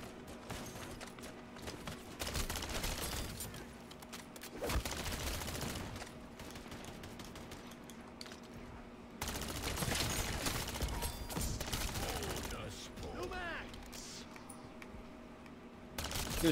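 Gunfire and bursts of shooting in a Call of Duty: Modern Warfare III Zombies match, rapid shots and fusillades running through busy game noise at moderate loudness, with brief pauses between volleys.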